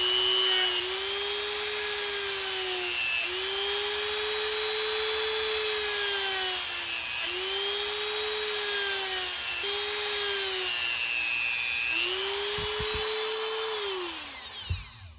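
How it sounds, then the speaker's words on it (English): A Dremel rotary tool with a small round filing tip texturing wooden knife scales, with a continuous high-pitched whine that dips and rises in speed in repeated passes as the bit bears into the wood, close and loud. "I'm going to use a Dremel tool here, and I've got a small round wooden filing tip on it."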